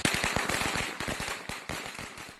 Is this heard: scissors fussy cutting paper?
no